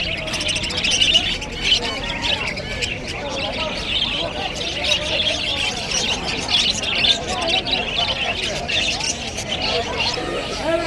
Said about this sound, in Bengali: এখানে মুরগিগুলো আছে, বিভিন্ন ধরনের পাখি, মুরগিগুলো বিভিন্ন ধরনের কবুতর আছে